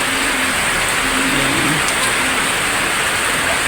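Heavy rain pouring down in a steady, loud, unbroken wash of noise, with a faint engine hum somewhere behind it.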